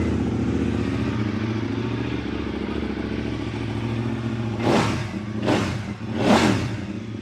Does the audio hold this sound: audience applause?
no